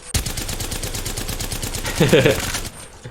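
An Apex Legends gun empties the rest of a 28-round magazine in one fast, even stream of close, loud shots that stops abruptly, with a voice speaking faintly underneath.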